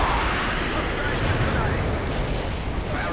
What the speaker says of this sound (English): Firing a tight barrage in the target area